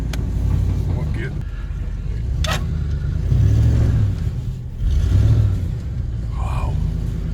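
Ford F150 pickup truck engine revving: a low, rumbling idle that swells in a few heavy surges, with people talking over it.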